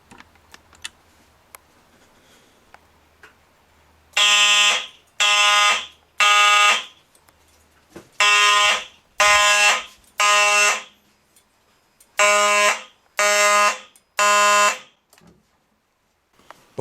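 A fire alarm sounds during an alarm system test, giving nine loud, harsh buzzing blasts of about a second each in three groups of three, a temporal-three pattern, with quiet pauses and faint clicks between them.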